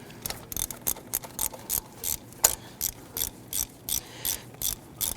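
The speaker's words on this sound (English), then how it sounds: "Remove this 12mm bolt for this bracket." Ratchet wrench clicking as it loosens a 12mm bolt on a bracket in the engine bay of a 1992-1996 Toyota Camry 2.2L L4, steady rhythmic bursts of ratcheting, close and clear with no talk.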